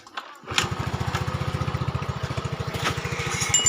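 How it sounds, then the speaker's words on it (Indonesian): A fuel-injected automatic motor scooter engine starts and settles into a steady putt-putting idle, close and fairly loud, with rapid regular pulses. "Oke, motornya hidup."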